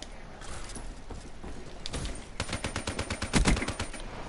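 Rapid bursts of automatic gunfire from a video game's gun game mode, loud and dense with quick repeated shots, building toward heavier volleys near the end.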